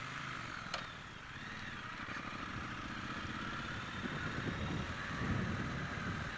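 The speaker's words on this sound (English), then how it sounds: "That rumble. I mean, you're close to it too. You're low down and close to that engine." Triumph Speedmaster cruiser motorcycle engine giving a steady, low rumble heard up close while riding, continuous throughout with little change in pitch.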